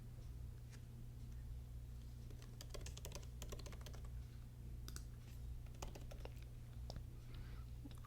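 Someone types a password on a Mac computer keyboard, producing faint, irregular key clicks over a low steady background hum.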